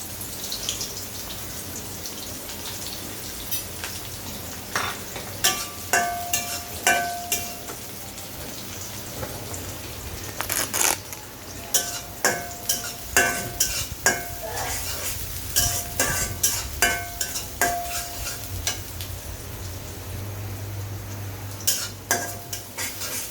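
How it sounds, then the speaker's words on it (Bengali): Chopped onions fry in a pan for egg korma, a steady close sizzle with repeated sharp scrapes and clinks of a spoon stirring against the pan, no talking. "প্রথমে আমি চুলাটা জ্বালিয়ে দিয়েছি, তার মধ্যে এখানে পেঁয়াজ কুচি দিয়ে দিচ্ছি।"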